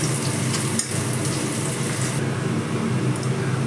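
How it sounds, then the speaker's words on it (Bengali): Onions fry in a pan with a loud, dense sizzle that crackles continuously, briefly thinning partway through and then carrying on at full strength. "পেঁয়াজটা ভাজা হয়ে গেছে"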